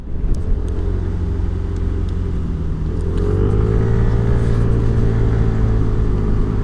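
SYM Cruisym scooter riding along a road, a loud steady engine drone with continuous road and wind rumble that rises slightly in pitch partway through, heard up close with no talking.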